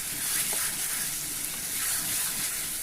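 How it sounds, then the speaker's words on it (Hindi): Chicken and chickpea curry (murgh chanay) frying in a pan, a steady, close hiss of sizzling oil with a few soft stirring touches and no talking. "अब ये जो सालन है वो भुनने लगा है"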